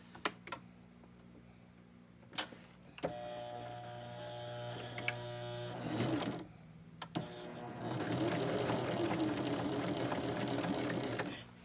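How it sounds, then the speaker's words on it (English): A sewing machine stitching pieced fabric for a Christmas stocking top runs in several quiet bursts, a steady motor whir with short pauses and faint handling clicks between runs. "And I'm just going to stitch this"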